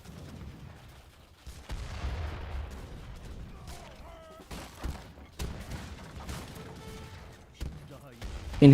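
Bombard cannons in a strategy game fire in scattered booms and thuds, mixed with other battle clatter and brief tonal game cues, with no clear talk over them.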